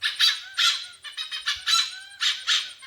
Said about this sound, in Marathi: गरुड पक्षी बसले आहे तर गरुड पक्षाचा आवाज बघा